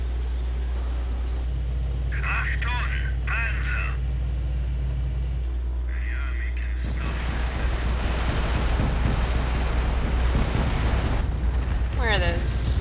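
Nebelwerfer rocket artillery in a World War II strategy video game, with bursts of screeching rockets and then a long run of rumbling explosions, while commentators talk over the battle.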